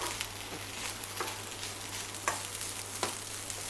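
Jasmine rice fried with marinated pork, Chinese sausage and egg sizzles steadily in a pan, with scraping stirs every half second or so over a constant frying hiss and a low hum, no voices.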